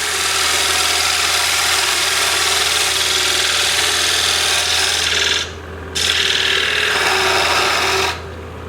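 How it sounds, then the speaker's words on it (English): A wooden tenon on a lidded box is cut away with a tool working across the grain, making a loud, continuous rasping scrape that breaks off twice for brief pauses. "Cut away the tenon"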